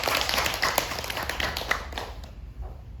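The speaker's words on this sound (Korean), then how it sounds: "박수 한번 주실까요?" An audience at a Buddhist monk's Dharma talk claps, a brisk patter of hands that fades out after a few seconds.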